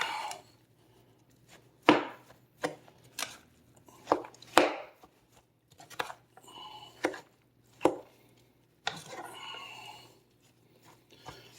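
A wooden spatula works through mustard coleslaw in a bowl, producing irregular soft knocks and scrapes spaced a second or so apart, close and quiet with no speech.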